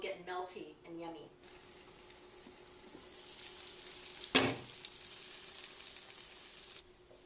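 Bacon strips sizzle steadily in a pan, a soft continuous crackle broken by a brief sharp clatter midway, with a few faint voice-like sounds at the start.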